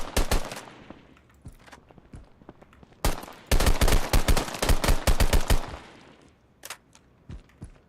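Video game gunfire from hip-fire shooting: rapid automatic bursts in several clusters, loud and sharp, with short pauses between volleys and a few isolated shots near the end.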